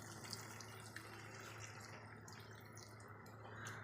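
Saffron-soaked milk is poured into a prawn dish in the pan, a faint, steady liquid trickle that runs without a break.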